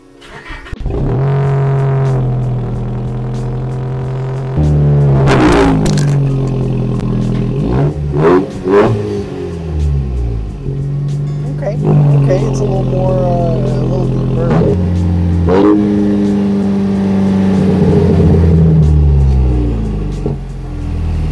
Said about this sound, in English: We're all done installing the exhaust and now we're gonna fire it up for the first time.